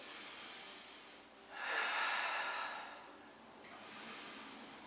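During an abdominal exercise, one strong, close breath rushes through the middle, with a quieter breath following toward the end against near silence.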